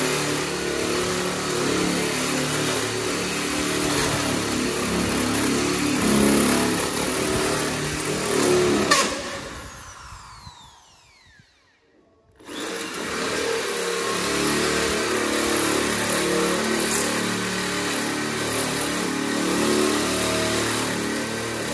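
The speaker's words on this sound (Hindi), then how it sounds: "22 का होल साइज के साथ लगाया ड्रिल के साथ में" A power drill bores a 22 mm hole through a steel distribution board door, a loud continuous whirring grind that cuts out for a few seconds midway, then resumes steadily.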